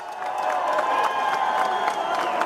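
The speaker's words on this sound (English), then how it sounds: "please give both of these fighters a big round of applause" Crowd at Madison Square Garden applauding boxers after an IBF bantamweight world championship fight, a loud sustained mix of clapping, cheering and scattered whoops from a large arena audience.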